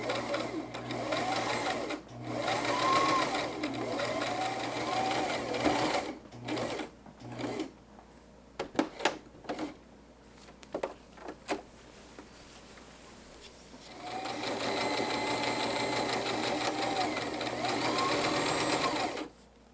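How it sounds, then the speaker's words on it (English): A sewing machine stitches the top of a skirt zipper, a fast, even mechanical whirr in long runs with a pause of clicks and handling noises between them, close and steady, with no talking. "I'm about to sew this top part on, the top part of the zipper"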